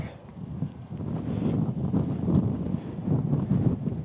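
Wind buffeting a microphone outdoors on a disc golf course, a fluctuating low rumble of gusts that rises and falls continuously throughout.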